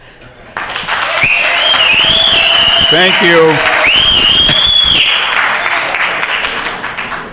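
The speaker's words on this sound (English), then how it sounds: "It's not a who can clap the loudest." Audience at a zoning administrator hearing bursting into sustained applause with a few cheers, loud and steady for several seconds before fading, after a speaker briefly talks.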